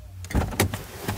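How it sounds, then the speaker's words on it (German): Car door being opened, a short burst of clicks and mechanical thuds of the latch and handle, close and fairly loud, over a low background hum. "Ich mache jetzt elegant die Tür auf."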